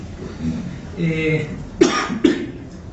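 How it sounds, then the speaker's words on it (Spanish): Two short, sharp coughs from a persistent cough break through after a bit of low murmuring, close to the microphone. "espero que no moleste la tos, porque estoy con una tos persistente"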